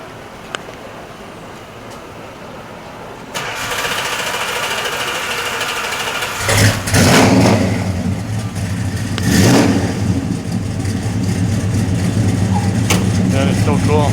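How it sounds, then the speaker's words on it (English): A 1969 Plymouth Roadrunner V8 cranks, fires up and revs, the loud throaty engine rising in several surges over a steady idle, with people talking nearby. "turn the key, it fires up half a turn, runs very smooth."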